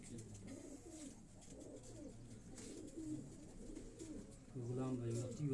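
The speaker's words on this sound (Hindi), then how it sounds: "ये कमगर, हीरा लाल, सुरख आंख वाले ये कबूतर" Pigeons of a high-flying breed, red-eyed kamgar and heera lal types, cooing in steady low murmurs close by, with people talking over them throughout.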